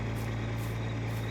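A diesel truck engine idles steadily in a farming video game, a low, even rumble with no voices.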